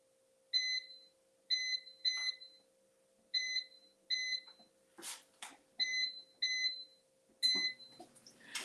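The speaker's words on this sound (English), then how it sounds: "Sorry about all the beeping." A kitchen oven beeps in repeated short electronic tones, grouped in twos and threes with brief pauses, clear and close in a quiet room, with a few faint clicks and clatters between.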